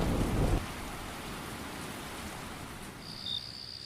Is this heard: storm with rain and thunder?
yes